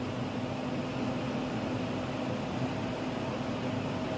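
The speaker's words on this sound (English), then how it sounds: "I'm sorry that fan's so loud." Steady whooshing drone of a loud kitchen exhaust fan running over a stove while gumbo roux is made, constant broadband noise with a faint hum and no talk.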